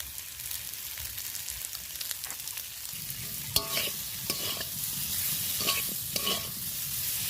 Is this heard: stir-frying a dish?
yes